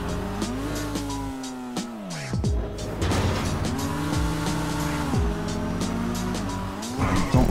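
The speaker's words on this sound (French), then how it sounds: "C'est préférable avec cette voiture qui glisse comme pas possible." A car in the GTA 5 video game skids and slides, its tires squealing over a steady, rising and falling engine drone that continues throughout.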